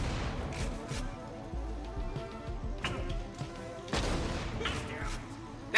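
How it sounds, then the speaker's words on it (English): Flakr, a legendary Torgue shotgun in Borderlands: The Pre-Sequel, firing flak projectiles: a series of sharp blasts with bursting flak pops, a few loud shots standing out amid busy game noise. "The Flakr is a legendary Torg shotgun that has a unique effect of, upon shooting it, it will shoot out flak."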